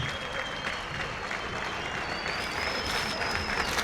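An audience claps continuously through dense, sustained applause at the Fichee festival, the Sidama new year celebration in Addis Ababa, with a faint whistle riding over the crowd.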